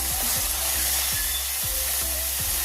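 Spices frying in oil in a pan while being stirred, a steady bright sizzle with regular scraping strokes of a spatula about twice a second, close and continuous with no talking.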